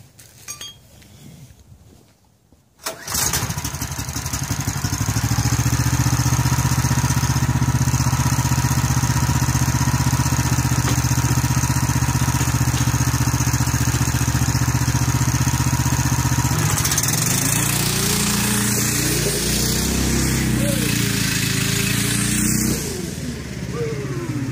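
A go-kart with a stock 420cc Predator engine starts and runs at a steady, loud, close idle with a buzzy drone, then its pitch rises and falls as it revs near the end.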